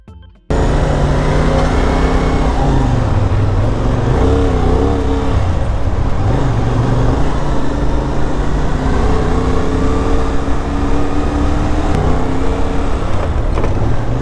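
A CFMoto 450SR motorcycle engine running while ridden, a loud, close, steady drone with clear harmonic tones that rise and dip as the throttle shifts, with wind rush under it for the whole ride.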